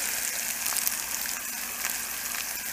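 Crushed garlic and chopped onion fry in a pan for an eggplant curry, giving a close, steady, dense sizzle that runs unbroken for a few seconds with no voices.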